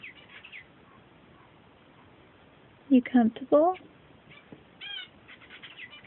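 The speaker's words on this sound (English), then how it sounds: "You hear them finches?" A short cluster of small finches chirping nearby, bright quick calls over a quiet room, with a person speaking softly.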